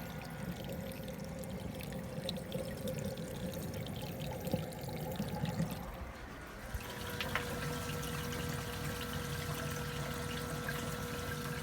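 Water rushes and trickles down through an aquarium overflow tower in a bean animal style setup, over a low steady pump hum, continuous and close with a brief dip partway through.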